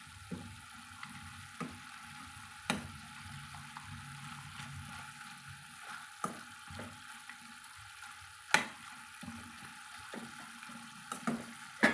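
Pallipalayam chicken cooks down in a pan, giving a quiet, steady sizzle and simmer broken by occasional sharp clicks and taps of stirring.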